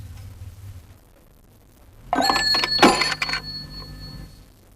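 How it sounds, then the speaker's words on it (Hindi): Telephone handset hung up onto its cradle in a radio drama: a brief clattering knock followed by a short metallic bell-like ring that dies away, after a near-silent pause. "मैं फोन रखता हूं।"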